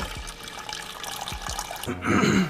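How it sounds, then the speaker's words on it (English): Espresso pours into a pot with a soft liquid trickle, rising into a louder splashing gush toward the end, recorded fairly close. "So I'm gonna have my man B Meads go ahead and pour this espresso straight into this pot here."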